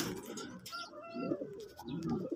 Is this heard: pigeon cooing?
yes